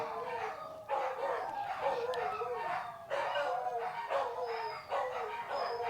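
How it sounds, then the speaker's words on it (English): Several dogs howl and yelp together in long wavering, overlapping phrases, fairly close and loud, with brief dips between bursts and no talking. "The dogs are singing."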